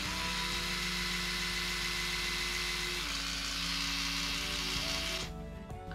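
An Oral-B Pro 2000S electric toothbrush runs close by with a steady, loud motor hum and buzz. Partway through the pitch drops, and near the end it shifts and the tone thins out.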